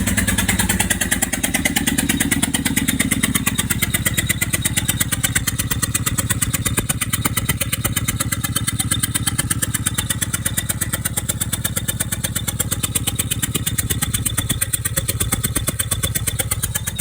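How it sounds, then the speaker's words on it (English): An old engine is cranked with one spark plug removed, giving a loud, continuous, rapid chugging whir as the starter spins it and compression puffs out of the open cylinder. It runs steadily throughout without catching. "kind of loud because it's gonna be shooting out compression out that cylinder with no plug in it"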